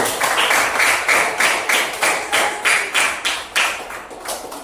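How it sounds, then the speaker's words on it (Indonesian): A group of students in a classroom claps in unison, about ten sharp, evenly spaced rhythmic claps at a brisk pace, loud and close, fading slightly at the end. "Tepuk tangan dulu dari kelompok 1."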